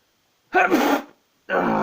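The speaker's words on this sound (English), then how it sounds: "I'm going to sneeze" A single loud, close sneeze from someone with a cold, with a sharp burst, followed after a short pause by another abrupt burst of breathy noise.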